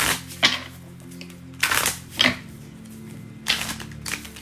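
Tarot cards being shuffled in a few separate bursts of quick riffling, close by, with short quiet pauses between them and no talking.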